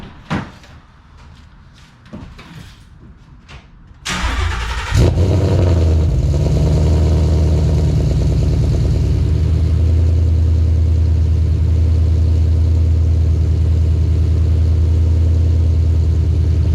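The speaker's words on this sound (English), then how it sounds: "So if your car doesn't start like this, it's not the tune." Tuned Ford Mustang with a stage 3 setup and MT-82 manual gearbox cranking and catching, the engine flaring briefly then settling into a loud, steady, rumbling idle that fills the rest of the clip, preceded by a few clicks and knocks.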